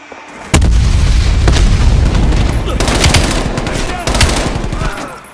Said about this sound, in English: Огонь на подавление!